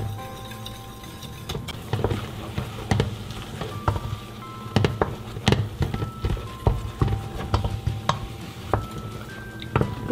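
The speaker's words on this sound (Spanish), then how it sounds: "Le voy a agregar el resto y voy a seguir batiendo" Corn dough for sorullos being beaten by hand in a bowl, irregular soft slaps and sharp clicks of a utensil against the bowl, close and moderately quiet.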